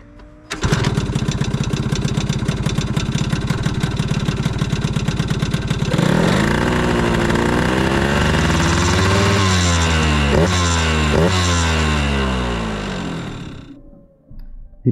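A Piaggio Zip scooter's small engine starts and runs at a steady, buzzing idle, then revs rise and fall in several sweeping blips before it shuts off near the end; close and loud with no talking.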